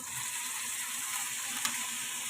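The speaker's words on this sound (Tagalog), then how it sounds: "So, ilalagay na siya natin dito sa ating gisado. Dito na sa kamalaking kawali." Tender boiled pork leg goes into a large pan of sautéed aromatics for kare-kare, giving a steady, close frying sizzle with a brief clatter near the end and no talking.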